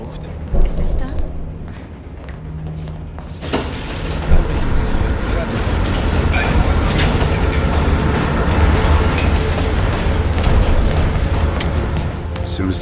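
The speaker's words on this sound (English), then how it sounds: "As soon as the train slows down, you and I'll jump off." A train moves in a Call of Duty Black Ops Cold War cutscene, giving a loud, continuous low rumble and rattle that swells after a few seconds and holds steady, with voices heard at times over the noise.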